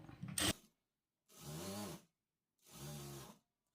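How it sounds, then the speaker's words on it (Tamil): A sewing machine stitches along the open, folded edge of a blouse piece: a quick click, then two separate short whirring bursts of stitching, near and clear, with silence between them. "இந்த ஓப்பன் ஏஜில் வந்து தையல் போட்டுக்குங்க"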